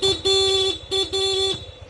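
Two honks from the stock horn of a Honda ADV150 scooter, a thin buzzy beep pressed twice, loud and close, with an engine idling underneath.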